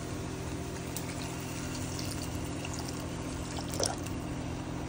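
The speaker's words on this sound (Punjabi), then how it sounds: "ਪਾਣੀ ਪਾਉਂਦੇ ਹਾਂ ਵਿੱਚ ਕਿਉਂਕਿ ਬਣਨੇ ਤਾਂ ਇਹ ਪਾਣੀ ਨਾਲ ਹੀ ਹੈ।" Water is poured from a vessel into masala cooking in a pan, giving a continuous splashing trickle at moderate level with no talk over it.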